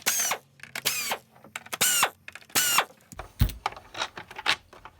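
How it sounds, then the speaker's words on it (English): Screws are driven out of the base plate of a Hoover WindTunnel self-propelled vacuum with a power screwdriver. Several loud, close whining bursts of about half a second each rise in pitch and are separated by brief pauses and small clicks. "you can remove the 4 screws on the base plate"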